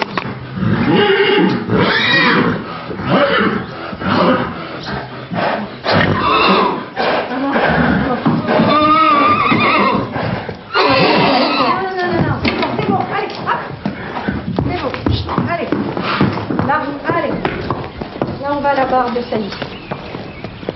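Horses neighing and whinnying outdoors as an Arabian stallion is presented to a mare to test whether she is ready for breeding, with loud overlapping calls, snorts and hoof movement throughout, and people talking over them.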